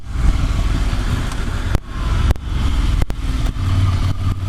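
A 2019 Ducati Monster 797 motorcycle engine runs close and loud, a steady throaty drone broken by a few brief dips and cuts.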